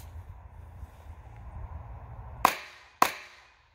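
Two sharp gunshots from a .22 pistol, a Ruger MKIV or Glock 44, firing Winchester Super X ammunition, ring out about half a second apart over faint background noise, each loud crack decaying quickly.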